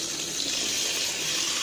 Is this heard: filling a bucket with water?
yes